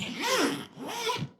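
Zips on SW-Motech Pro Blaze pannier bags fitted to a BMW S1000R, two quick close zipping pulls, each a short raspy sweep, fairly quiet.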